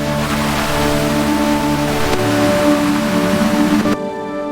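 River water rushes and flows steadily at close range, a dense continuous wash of sound with no voices.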